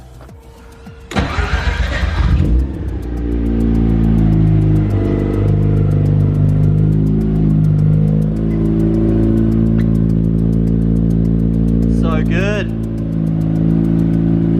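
BMW E36 truck engine fires up after sitting a long time, then runs loud and close with steady harmonic drone and occasional revs; a brief remark from a person is heard early on.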